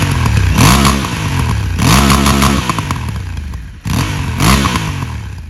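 A Honda Africa Twin motorcycle on its stock exhaust revs close by in three or four rising blips with clattery mechanical noise, loud and without talk.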